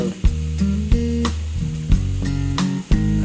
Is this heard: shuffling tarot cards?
no